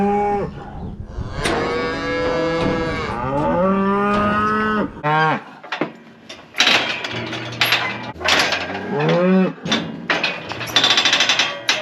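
Cows and calves moo loudly and repeatedly during spring cattle work, with long drawn-out bellows close by, followed by metallic banging and clanking of chute gear.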